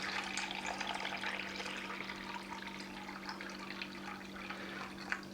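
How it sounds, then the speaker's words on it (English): Water poured into weighed ingredients for artisan white bread dough, a steady trickling stream heard up close over a constant low hum. "I'm going to just pour in some water."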